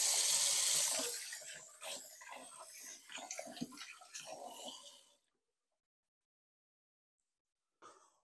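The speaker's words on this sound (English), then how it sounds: "Once that's in, give your hands a quick wash." Tap water runs into a kitchen sink during hand washing, a loud gush at first, then splashing as hands move under the stream, before the faucet shuts off into silence and a faint knock follows.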